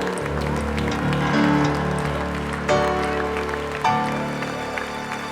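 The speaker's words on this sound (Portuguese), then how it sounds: "Vamos dar um aplauso ao Senhor." A church congregation applauds the Lord during a Wednesday service, a steady dense wash of clapping with music and sustained tones underneath, all fairly loud and continuous.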